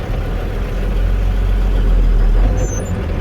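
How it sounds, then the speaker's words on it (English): Deep, loud diesel engine rumble from a truck in first gear straining against its parking brake during a CDL pre-trip test, a steady low drone that swells slightly midway with no one talking. "We're going to put the truck in first gear and slowly let out on the clutch to pull against the parking brake."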